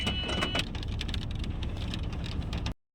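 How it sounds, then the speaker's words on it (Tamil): Steady patter of light rain falling at a bird park in Saudi Arabia, with scattered drops ticking over a soft, continuous hiss, cutting off abruptly at the end. "மழை பெய்யுது. ரக்கு தானே உங்களுக்கு மழை பெய்யுது. என்ன ஸ்லோவாக பெய்யுது"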